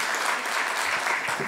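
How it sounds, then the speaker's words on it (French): Conference audience clapping for a speaker at a mental health policy event in Ille-et-Vilaine, a steady, dense round of applause filling the whole moment at moderate level with no talk over it. "Je veux bien qu'on l'applaudisse aussi, comme les précédents orateurs."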